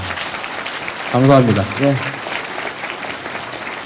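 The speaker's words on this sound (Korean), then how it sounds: "다시 한번 박수 부탁드리겠습니다" Applause from the audience at a political talk concert with the Seongnam mayor, a steady wash of clapping running through the clip while someone briefly speaks over it.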